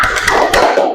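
A group of people clapping hands together in a quick burst of spirited claps, close and loud, lasting about a second with no voices.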